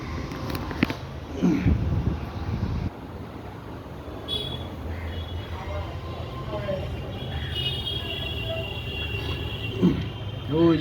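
A train from Howrah rumbles past near Garia station, a low steady mechanical roar with clanking and squeals rising and falling over about ten seconds, heard from close by with no talking.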